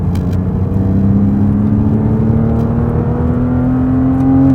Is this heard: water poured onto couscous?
no